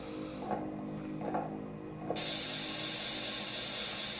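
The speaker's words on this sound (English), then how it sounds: "I never could find out where that steam was coming from." Steady hissing steam in a dark sci-fi horror video game swells suddenly into a loud, bright, continuous rush after a low mechanical hum with a few faint thuds.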